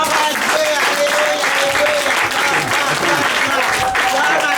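Church convention congregation applauding and cheering to acclaim the Lord, a dense, steady wave of clapping that fills the room from start to finish at loud level, with voices mixed into the crowd.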